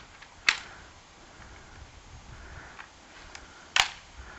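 A receiver cover fitted back onto a Breda shotgun during reassembly, with two sharp, close metallic clicks a few seconds apart over a quiet background.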